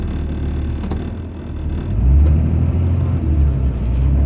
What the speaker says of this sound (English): if you're wondering why there's so much spinning, it's because there is no snow tires on this truck